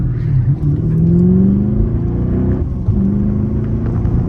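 A Chevrolet Camaro engine revs loudly from up close, a deep throaty rumble that rises and falls through a couple of strong pulls, with no talking over it.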